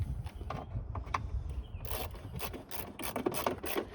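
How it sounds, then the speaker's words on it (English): An 8mm socket on a ratchet loosens light-housing bolts on a 2008 Ford Explorer, giving quick bursts of close, rapid ratchet clicking in the second half after a few softer taps. "grab your 8mm socket and ratchet or 8mm wrench and go ahead and start loosening them"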